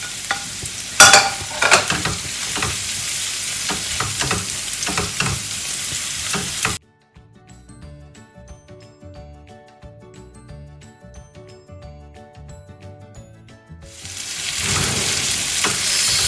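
Chopped tomatoes frying in a pan for Anglo-Indian fish molly, a loud steady sizzle with stirring scrapes that cuts off into near silence for several seconds, then the sizzling returns strongly.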